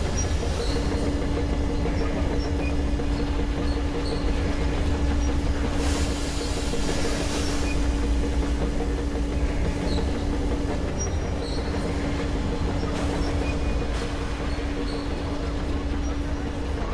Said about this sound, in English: Attention! The turntable is switching on.